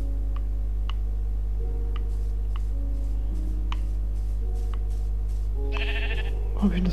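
Sheep in the Minecraft video game bleat in a few short calls amid ticking game sounds and a constant low hum, with a voice near the end.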